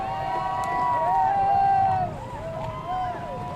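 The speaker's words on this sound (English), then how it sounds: "We can hear cheers as well from spectator boats." Cheering from spectator boats at the finish of an offshore sailing race arriving in Lorient, a rising and falling chorus of distant voices over wind and water noise, with a person talking over it.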